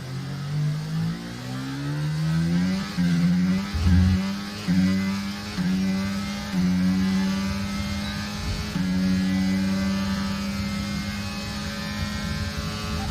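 A Formula 1 race car engine in F1 23 screams at full throttle, a loud sustained howl whose pitch climbs through repeated rising gear sweeps with brief dips at each upshift, steady and close with no talk over it.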